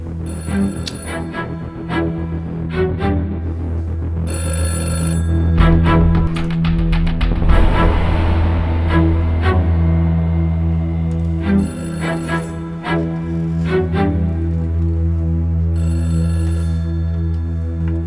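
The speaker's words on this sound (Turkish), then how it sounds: "Ben gerçekten bakmalıyım o telefona." A telephone rings repeatedly in bursts of bright, rapid trilling that recur every few seconds, sitting over a loud, steady background of music.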